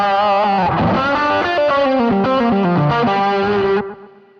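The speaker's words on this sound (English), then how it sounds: "I want to add a plate reverb in at the end" Distorted electric guitar lead tone through a Boss GX100 with plate reverb: a run of sustained, harmonically rich notes stepping through a short phrase, ending on a held note that fades out in a reverb tail, played alone.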